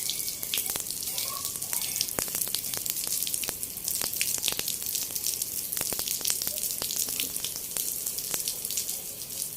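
Water rushes from a tap opened fully into a pipe during a fluid mechanics flow-rate test, a continuous, close, hissing stream with scattered drip-like splashes.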